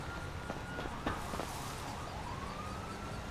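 Fire truck siren in the GTA V video game, a distant wailing tone that sweeps up and down under steady street ambience, with a few sharp game clicks mixed in.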